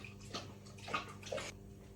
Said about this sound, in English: He's having a big drink of water.